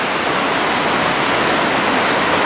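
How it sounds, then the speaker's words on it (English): Tat Kuang Si waterfalls near Luang Prabang, Laos, cascading through limestone pools: a loud, continuous broadband roar of falling water filling the whole stretch, close and steady with no voices. "we're here at some giant waterfalls outside of Luang Prabang"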